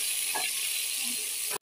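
Chopped onions hit hot ghee in a pan for a village-style chana pulao, giving a steady, close, bright sizzling hiss that holds evenly and then cuts off abruptly.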